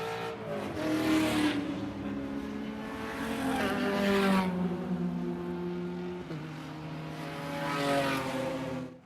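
Endurance race cars, including a Stratus NP01 prototype, pass on the Sebring circuit, engines roaring in swelling and fading passes one after another, loud and fairly close, with pitch sliding as each car goes by.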